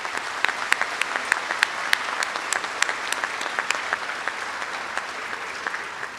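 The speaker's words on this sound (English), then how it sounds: "Would you please join with me in applauding our faculty for their dedication to our students and our Law Center?" An audience at a law center event applauds the faculty, a steady wash of many hands clapping with sharper individual claps standing out, moderately loud and continuous throughout with no talking over it.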